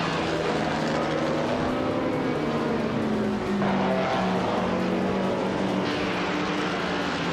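Race cars in a racing video game, engines droning loud and continuous with layered whining tones that shift in pitch as cars overtake one another, steady throughout with no pauses.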